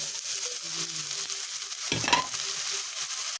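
Garlic and onion sizzle in a pan for carbonara, with a steady frying hiss and a burst of stirring scrapes partway through, close up with no talking.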